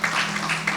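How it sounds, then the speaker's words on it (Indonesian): A church congregation at an evening prayer service claps in a brief, dense burst with sharp peaks, moderately loud and roomy. "Tepuk tangan bagi Tuhan."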